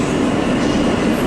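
A New York City M subway train runs past 21st Street in winter, a loud, steady roar of wheels and rail noise that fills the whole moment without a break.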